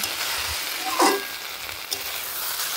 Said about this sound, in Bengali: এইভাবে ঢেকে ঢেকে একটু নেড়ে নেড়ে সরিষাটা হালকা একটু ভাজা ভাজা করে নেব